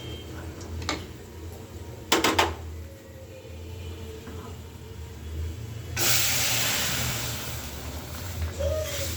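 Masoor lentils hit hot fried onions in a pan: a couple of sharp clinks, then a sudden loud, steady hissing sizzle that holds to the end, close up and with no talking.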